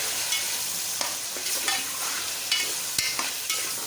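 Potato rice (aloo tahri pulao) being stirred in a frying pot, with a steady sizzle of frying and repeated scraping strokes of a spoon at an irregular rhythm, close and moderately loud, no talking.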